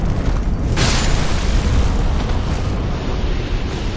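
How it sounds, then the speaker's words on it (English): An exploding enemy blows up in Dark Souls 2, a loud broad roaring blast with a sharp burst near the start that rumbles on steadily for several seconds, with no voices. "Ooh, one of the exploding guys."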